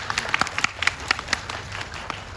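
Audience applause at a Korean movie talk event, moderate-level clapping from a mid-sized crowd with individual claps standing out against a steady patter, continuous throughout.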